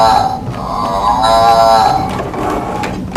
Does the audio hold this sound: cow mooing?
yes